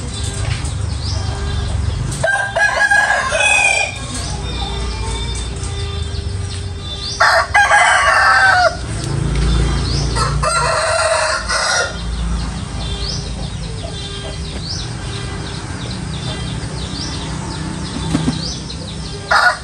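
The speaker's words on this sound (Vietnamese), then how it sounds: "Gà chạy ra chợ vậy mất tiêu gà." Chickens cluck and a rooster crows several times at a Vietnamese market, with loud bursts of calls around 2.5, 7.5 and 11 seconds over a steady busy background.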